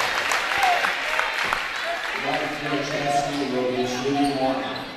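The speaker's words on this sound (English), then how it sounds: "Gets one heck of an ovation from the crowd." Applause swells from the crowd at a high school basketball game between Breckenridge and Frazee, loud at first, then carrying on under an announcer's steady commentary.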